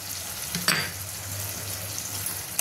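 Spices for ghugni (turmeric, chili, cumin and coriander powders with whole green chili) fry in hot oil, giving a continuous close hiss with a brief louder spatter and a stir near the start.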